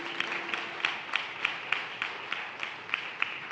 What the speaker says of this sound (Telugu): ఒకసారి చప్పట్లు కొడదామా గట్టిగా?